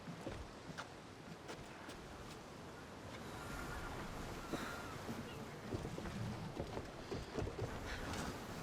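A sailing ship crosses the open sea in the game Assassin's Creed Odyssey, with a constant wash of waves and wind noise plus creaks and knocks throughout, fairly faint and without speech.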